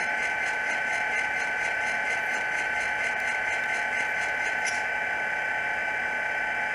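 A Genesis SD45 diesel locomotive model plays sound through its stock speaker, giving a steady, thin idling engine drone with a faint mechanical clatter, heard alone at a constant level.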